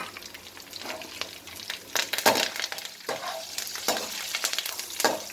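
Curry leaves hit hot oil and sizzle loudly while frying for atukula mixture, with sharp bursts of crackle and spitting over a steady hiss and occasional stirring in the pan.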